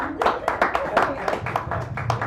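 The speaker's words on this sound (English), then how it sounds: "give her a nice round of applause" Scattered hand clapping from a small audience at a poetry open mic in a café, individual claps distinct and rhythmic, with some talk underneath.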